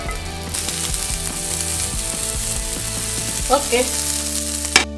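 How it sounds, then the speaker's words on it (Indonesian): Buttered sausages sizzling as they grill on a hot pan, a steady close frying hiss with scraping and stirring, a brief spoken word and a small clack near the end. "Selanjutnya, sosisnya juga kita olesin dulu. Pakai mentega. Baru kita panggang."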